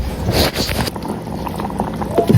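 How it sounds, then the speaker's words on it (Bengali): Potato and tomato curry boiling in a pot, a close bubbling rush with gurgles and a few thicker pops toward the end, faint and brief. "এইদিকে আলু টমেটো বলক উঠে গেছে"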